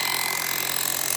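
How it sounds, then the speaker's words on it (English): A power drill bores rebar holes about six inches deep into a concrete slab for a barn or garage foundation. It gives a continuous, harsh, grinding whine at close range, with no talking. "We're drilling them in about 6 inches into the slab."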